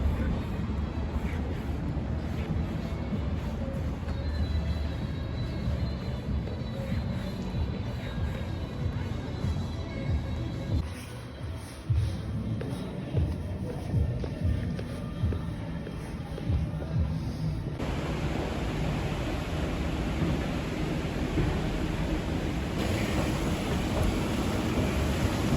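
A Danish metro train rumbles steadily throughout with a continuous low roar and rattling, heard from inside the carriage, with occasional shifts in tone and faint voices beneath the noise.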